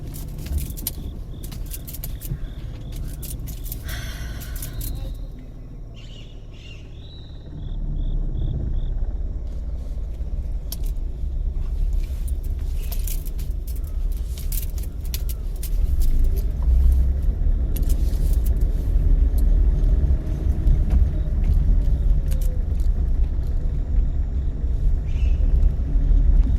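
A car engine idles and rumbles steadily during a U-turn driving lesson, with keys jangling briefly early on before the low drone swells slightly and holds.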